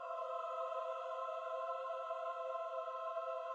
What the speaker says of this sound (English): Our choir sounds like this.